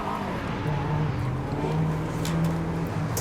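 A car in the Forza Horizon 5 racing game accelerates from a standstill, its engine a steady, droning hum that rises slightly in pitch, heard continuously with no talk.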